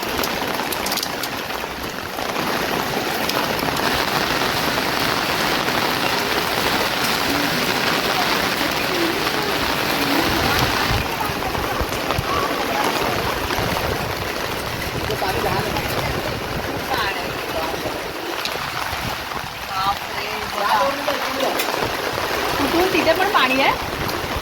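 Heavy monsoon rain pours down steadily as a dense, loud, unbroken roar, with a faint voice now and then beneath it.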